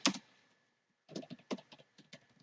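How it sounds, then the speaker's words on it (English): Keys clack on a computer keyboard in a few quick bursts of typing separated by a short pause, close and fairly quiet. "I'm just going to type"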